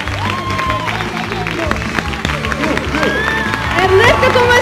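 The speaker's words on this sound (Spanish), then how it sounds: "Este aplauso se recibe desde allá, en donde la plaza se está cayendo" A large crowd in Guadalajara's Plaza del Progreso at a televised singing competition final, steady roaring applause and cheering mixed with voices, swelling toward the end.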